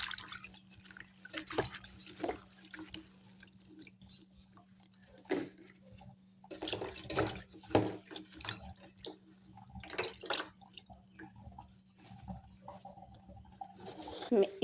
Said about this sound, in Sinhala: ඉතින් මේ කොළ ටික එකපාරක් විතරක් නෙමෙයි 3 පාරක්වත් අවම හොද ගන්න ඕනේ.